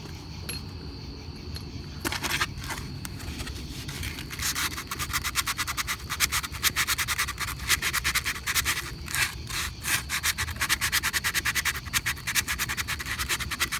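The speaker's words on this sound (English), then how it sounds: "Not perfectly smooth. Could use a little more sanding." A brake caliper guide pin from a 2007 Audi Q7 is sanded by hand with rapid, repetitive scraping strokes, close and fairly loud. The rhythmic rubbing runs continuously after a brief pause at the start.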